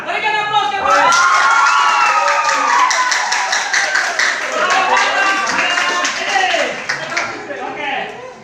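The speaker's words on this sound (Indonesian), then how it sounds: "Berikan aplaus kepada." Students in a classroom break into clapping and cheering, a loud, close burst of many hands with shouted young voices, sustained for several seconds before tapering off.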